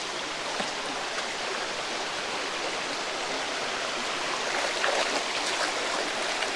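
Steady rushing of flowing water, an even broadband wash with no pauses, moderately loud.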